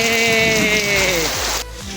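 Steady rain in Dubai hissing on a surface close by, with a sustained tonal hum sliding downward over it before cutting off abruptly.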